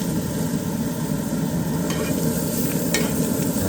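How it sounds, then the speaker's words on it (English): A bison New York strip steak sears on a Traeger Ranger flattop griddle with a loud, dense, continuous sizzle and faint scraping clicks, close up and without talk. "We'll let this guy sear for a few minutes."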